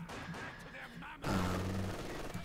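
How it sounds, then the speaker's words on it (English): Machine gun fire in Company of Heroes 2, a sustained rattling burst that starts abruptly midway and holds steady, following a stretch of game noise and a voice commentary. "it's the MG, again on the world tour from the left to the right"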